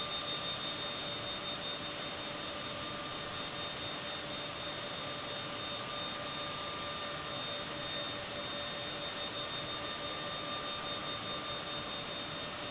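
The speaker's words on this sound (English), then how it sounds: "you got the sounds of these engines" Private jet engines in Microsoft Flight Simulator 2020, a loud, constant turbine roar with a steady high whine, unbroken throughout and with no voices.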